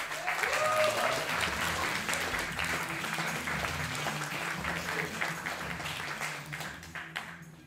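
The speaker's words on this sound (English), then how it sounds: "So give him a wonderful round of applause." A crowd at a Bettakultcha talk night in Leeds gives a warm round of applause to welcome a speaker, dense clapping sustained throughout with faint voices underneath, tapering slightly toward the close.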